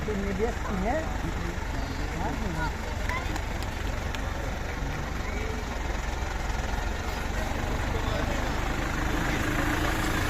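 An Ursus 380 tractor hauling a 2.7-metre disc harrow idles at a harvest festival parade, its low, steady engine rumble running continuously beneath a person talking.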